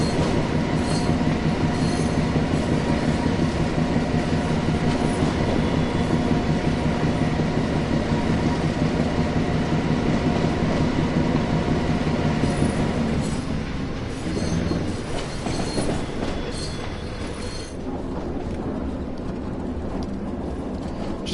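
A train shunts in Train Sim World 5 on the Tees Valley Line, with a loud, continuous rumble of wagons rolling on rails, squealing wheels and rhythmic clickety-clack that eases slightly toward the end.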